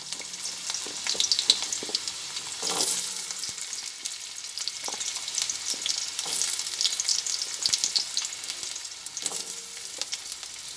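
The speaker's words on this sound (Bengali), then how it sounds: "সাদা জিরেটা ভাজা হচ্ছে" White cumin seeds frying in a pan as a vegetable curry starts, a steady hiss of fine crackling with occasional sharper pops, fairly close and alone without talk.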